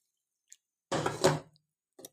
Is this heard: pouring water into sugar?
yes